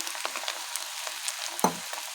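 Egg frying in a pan for egg noodles gives a steady soft sizzle with light stirring scrapes and one sharper clack near the end, close and even throughout.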